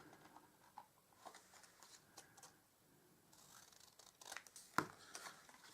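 Designer series paper being trimmed by hand with scissors, giving soft intermittent snips and rustles of paper handling, quiet and close, with a sharper cut near the end and no talking.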